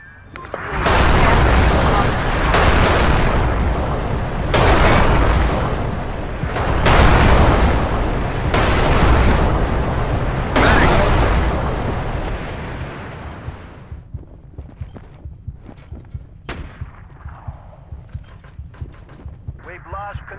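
Heavy artillery explosions from the Battlefield 2 game, Strike at Karkand map, come as a series of loud, rolling booms that overlap for about twelve seconds. Scattered fainter pops and thuds follow, and distant radio-style voices sound underneath.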